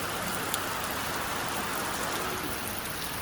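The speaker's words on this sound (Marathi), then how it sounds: "इतका पाऊस चालू आहे" Heavy rain falls in a dense, steady hiss that stays constant throughout, with a faint hum like a passing vehicle beneath it.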